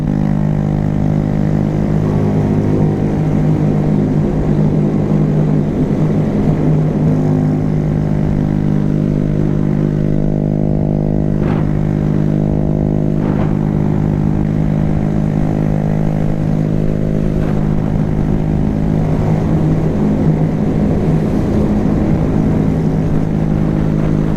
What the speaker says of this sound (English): experience what it's like to be me riding the Grom through these roads